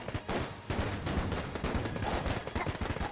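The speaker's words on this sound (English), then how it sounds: "let's use the machine pistol" Machine pistol firing in the video game Enter the Gungeon, rapid bursts of gunfire packed closely together, loud and continuous with brief gaps between volleys.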